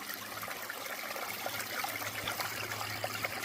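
Creek water flowing through a rainforest, a steady soft trickle and babble with small splashes, moderately close and fairly quiet, with no voices.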